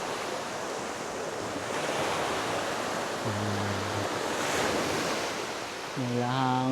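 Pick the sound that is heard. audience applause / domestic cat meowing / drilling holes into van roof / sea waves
sea waves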